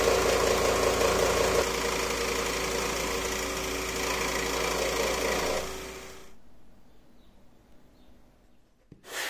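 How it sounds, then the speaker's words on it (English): A scroll saw cuts wood for a carved beer mug with a fast, steady buzzing rattle up close for several seconds, then shuts off and leaves near silence with a faint click at the end. "this scroll saw has been a lifesaver"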